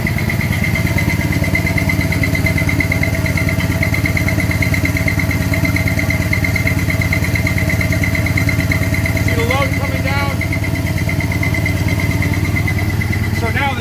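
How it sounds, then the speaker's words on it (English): An Ashworth & Parker steam dynamo generator runs loud and steady, with a continuous deep mechanical drone and whine that holds unbroken throughout. A few faint squeaky chirps stand out near the end. "Generator is working a lot less hard."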